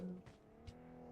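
A vehicle engine hums and revs steadily in the PUBG video game as a car drives up, quiet and moderately close, with a couple of brief rushes of noise over it.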